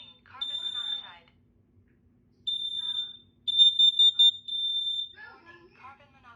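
A Kidde KN-COSM-IBCA combination smoke and carbon monoxide alarm sounding loud, close, piercing beeps in short bursts and sustained tones, interleaved with its built-in recorded voice announcing warnings.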